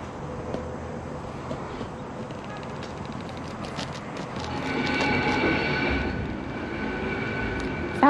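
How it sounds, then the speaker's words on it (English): A canal lock gate opens with a drawn-out metallic squealing and groaning over low rumbling machinery, steady and fairly close, with no voices. "Now the gate's opening."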